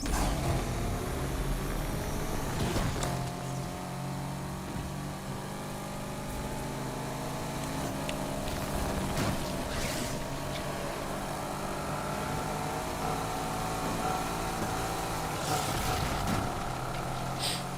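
A car engine in the racing game Need for Speed Unbound drones steadily and loudly for the whole stretch, its pitch rising and falling with throttle, with occasional bumps and crashes layered on top and no talking.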